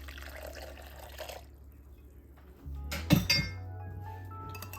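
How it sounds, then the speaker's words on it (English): A glassy clink, then hot water pours into a bowl with a rising, bubbly splash that settles into a steady trickle. "You are going to add 1 cup of hot water."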